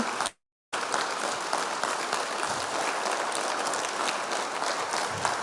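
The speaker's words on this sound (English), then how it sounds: "A round of applause for them." Applause from the audience at a Republican governor candidates' forum held by the St. Clair County Republican Party, a continuous, moderately quiet spread of clapping after a brief silent gap near the start.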